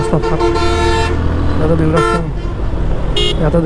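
Heavy road traffic in Dhaka as long-distance buses return after the Eid holiday, with a continuous engine rumble and several loud, close horn toots, including a long blast at the start and shorter honks later.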